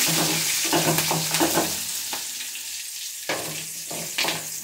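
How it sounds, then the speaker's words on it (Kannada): Onions and curry leaves fry in a pan on a low flame, giving a crackling sizzle with bursts of stirring and scraping and a brief quieter lull, heard up close. "1-4 ಈರುಳ್ಳಿ ಹಾಗೆ ಕರಿಬೇವು ಹಾಕೊಳ್ಳಿ. ಲೋ ಫ್ಲೇಮಲ್ಲಿ ಇಟ್ಕೊಳ್ಳಿ."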